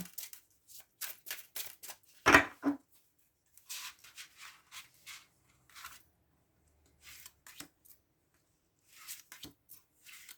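Playing cards handled and drawn one by one, five cards in all. The crisp paper flicks and slides come in short bursts with quiet gaps between them, close and clear.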